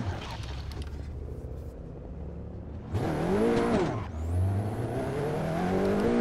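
In the Assetto Corsa racing game, a car closes in and passes with a loud engine whine that rises and falls, then another engine surges close by, revving hard at steady volume with no talking.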